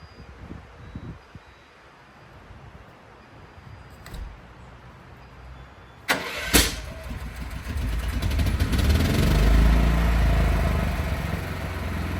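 A backup generator sputters with a sharp clunk, then its engine catches and builds into a steady, loud, rumbling run over faint background noise, during routine testing.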